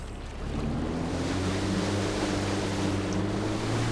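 A steady engine drone with a low hum and a rising harmonic, under continuous broadband water wash, from a boat cruising over waves in the video game Far Cry 4.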